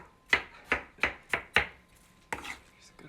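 Watermelon is chopped with a knife on a cutting board for a salad, giving five crisp, steady thuds close up, a short gap, then two quicker cuts, with no talking.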